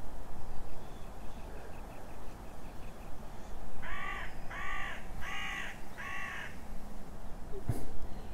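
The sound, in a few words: crows cawing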